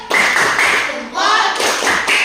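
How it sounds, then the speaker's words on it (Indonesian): A class does a rhythmic "tepuk salut" clapping cheer for a student named Chandra, loud close claps in short bursts with voices chanting along. "Beri tepuk salut untuk Chandra"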